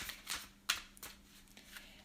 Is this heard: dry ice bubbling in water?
no